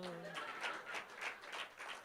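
An audience claps along at a Hindi poetry recital, a faint, even wash of hands in soft, regular pulses, with a brief voice at the very start.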